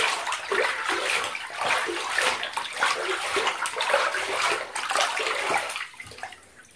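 Hand stirring bathtub water with a dissolving bath bomb, a close, steady swishing and sloshing that carries on throughout and eases off near the end, with no talking.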